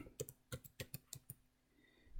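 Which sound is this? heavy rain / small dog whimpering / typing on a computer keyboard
typing on a computer keyboard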